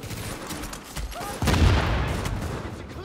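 Gunfire in The Division shooter game, a dense burst of rapid shots with a heavy boom near the middle, loud and close, with a voice briefly mixed in.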